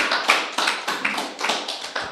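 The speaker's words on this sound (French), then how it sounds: "On peut l'applaudir, je pense" An audience applauding, sparse uneven claps from a small group coming in quick close bursts, fairly loud, with no voices over them.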